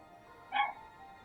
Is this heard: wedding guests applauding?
no